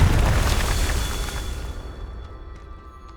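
A Confringo fire spell explodes in the Hogwarts Legacy video game, a loud booming blast that opens the clip and then slowly fades away into a quieter tail.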